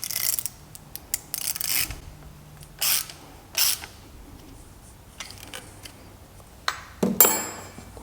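Short ratcheting bursts come from a ratchet tightening a part during a timing belt job on a Renault 1.5 dCi K9K engine, several separate clicks spread across the span in an otherwise quiet workshop.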